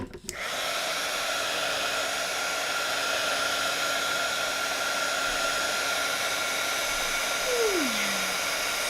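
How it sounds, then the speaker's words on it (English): A craft heat tool blowing steadily to speed-dry paint gives a continuous loud whirring hum close up, running unbroken after it switches on. "We're just going to speed dry this with our heat tool."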